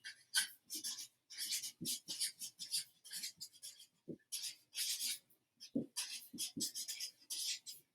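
Handwriting produces bursts of scratchy pen-on-paper strokes, close and faint, coming in quick irregular runs separated by short pauses, with a few soft low thumps between them.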